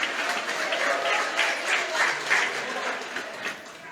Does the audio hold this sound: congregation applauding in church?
yes